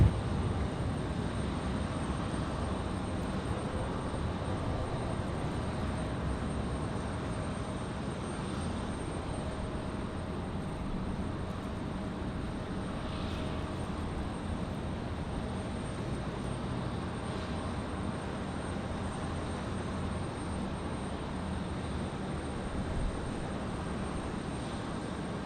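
A Southwest Airlines jet, flight 3091 bound for Houston, roars steadily at an airport, its broadband engine noise holding fairly even throughout with no talk over it.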